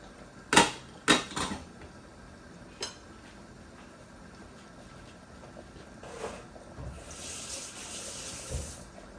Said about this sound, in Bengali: এখন আমি মাছের মাঝে জল দিলাই।